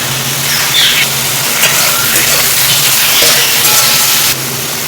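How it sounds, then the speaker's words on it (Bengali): Eggplant frying with onions in a pan, turmeric added, sizzling steadily and fairly loud close by throughout, with no talk over it and a slight drop near the end. "এরপর বেগুনটাও আমি পেঁয়াজের সাথে ভাজা ভাজা করে নেবো"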